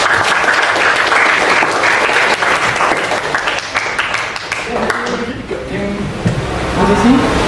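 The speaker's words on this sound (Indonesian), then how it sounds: "So, kita beri tepuk tangan dulu untuk dua tim" Applause from a school audience for two debate teams, dense steady clapping filling the room throughout, with voices murmuring beneath and a voice beginning to talk near the end.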